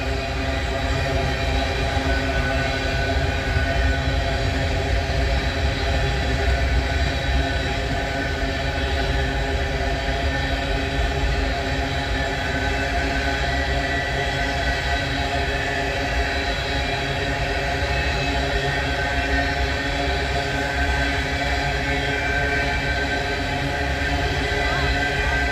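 A long freight train rolls steadily past at close range, with a continuous rumble and rattle of wagons on the rails throughout and faint voices beneath.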